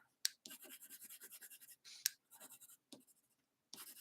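An ivory colored pencil scratches across paper in bursts of short, quick strokes with brief pauses between them, close and soft, with no talking.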